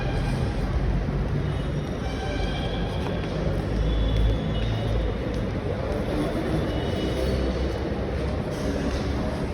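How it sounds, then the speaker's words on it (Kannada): Metro train in motion, a steady broadband rumble and rolling noise heard from inside the carriage, continuous and fairly loud with no clear speech. "ಈಗ ಮೆಟ್ರೋ ಹತ್ತಿ ಹೋಗ್ತಾ ಇದ್ದೀವಿ"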